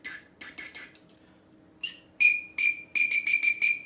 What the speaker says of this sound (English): a mandatory call that you're going to need is a teal whistle